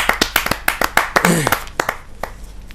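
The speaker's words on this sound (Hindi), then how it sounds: "जोरदार तालियों से उनका स्वागत कीजिए" Scattered hand claps from a small crowd at a Hindi poetry recital, starting as a burst of applause, then thinning into a few isolated claps as it fades.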